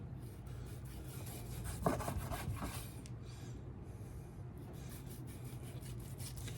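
Knife slicing through smoked pork belly, soft rasping strokes against a steady background hum, with a brief louder cut partway through.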